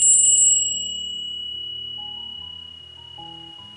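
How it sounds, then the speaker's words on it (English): A bell is struck during a Norse rune ritual, giving a bright initial strike with a quick flutter followed by a long, clear ringing tone that slowly fades, heard alone and close up. "We're going to ring a bell."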